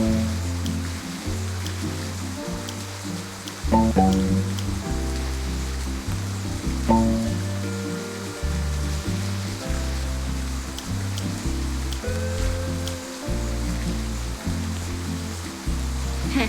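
Rain falls steadily in a Roblox video game garden, a constant soft hiss under looping game music with bright melodic tones and no talking.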